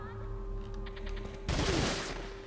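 Gunfire from the Resident Evil 4 video game: one loud, close burst of shots erupts about midway and fades quickly, over a quieter game background.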